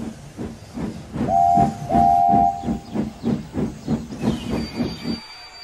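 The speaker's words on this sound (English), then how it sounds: "He was taking a freight train to Great Waterton" A steam freight train chuffs in a steady rhythm with hissing steam, and a whistle sounds twice partway through.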